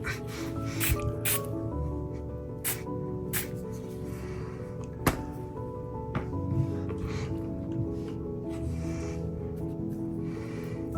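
Water from a spray bottle spritzes onto a watercolor painting of an ice climber, several short hissing bursts spaced irregularly among quiet handling sounds, close and fairly soft.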